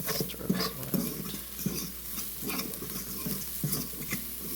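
Beans, beef and pork stirred in a pot, with a utensil scraping and sloshing through the mixture in a steady run of strokes at close range and a faint sizzle beneath, with no talking.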